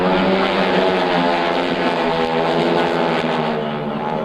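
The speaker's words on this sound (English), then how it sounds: "Hear the mighty roar of those 450 horsepower." A loud, steady roar of a 450-horsepower radial engine on a Red Baron Squadron biplane at an air show, thick and droning, holding constant throughout with no voices.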